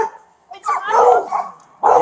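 A dog barks and yips up close at a police officer at a residence, in short loud bursts with a brief pause between them.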